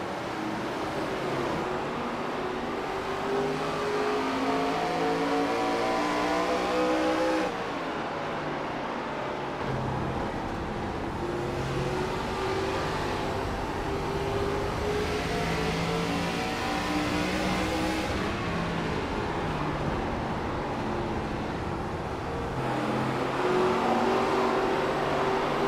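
Simulated ARCA race cars at IRP in iRacing, engines droning steadily and loudly throughout with shifting pitch as cars run laps, a continuous whine of several cars close together.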